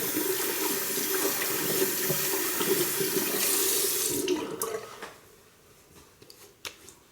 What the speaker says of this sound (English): We'll finish this up as always with some cold Austrian mountain water.